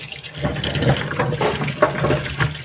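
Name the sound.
water poured while washing bitter gourd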